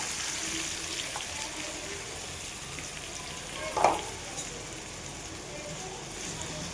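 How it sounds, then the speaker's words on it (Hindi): Chopped onion frying with tomato and chili in a pan on an induction cooker, a soft steady sizzle with one brief louder stir or clatter midway, nearby and fairly quiet. "प्याज भूनने देते हैं जब तक।"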